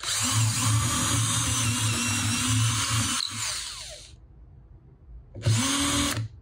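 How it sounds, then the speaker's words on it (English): A cordless drill whines steadily for several seconds, stops briefly, then bores again in a short second burst, close and loud, drilling holes. "So I'm going to drill my four holes."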